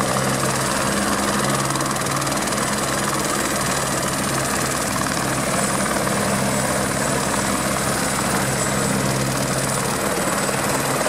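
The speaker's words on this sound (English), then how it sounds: "I even got spotlighted by the helicopter." A sheriff's helicopter flies low overhead in City of Industry, a loud, constant rotor thump and turbine roar that fills the whole stretch without letup; no talk.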